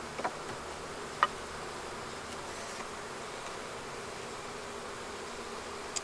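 Honeybees in a dying, broodless hive give off a thin, steady droning hum, faint and even throughout, broken by a few small clicks.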